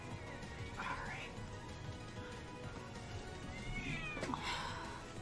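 A house cat meows twice in a room, short rising cries about a second apart and a few seconds later, fairly close, with a faint background hum and no talk over them.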